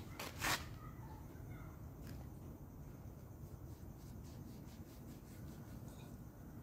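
Steady rasping and rubbing as a kelulut stingless bee log hive is cut, a continuous scraping texture with a louder scrape at the start, close by and with no talk.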